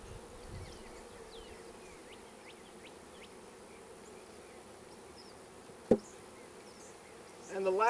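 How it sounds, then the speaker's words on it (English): Honeybees buzz on a crowded hive frame, a constant close drone with a sharp knock near the end and faint voice at the close. "Most of our bees are on this frame."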